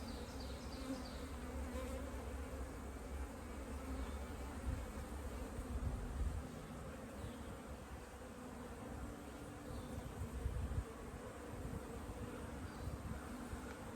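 Dense, steady buzzing of many honeybees fills the air around an open hive during an inspection, a continuous droning hum with no talking.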